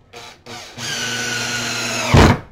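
A power drill runs into a soft wooden fence board, with a couple of short trigger bursts followed by a sustained whirring spin that strains briefly near the end, loud and close.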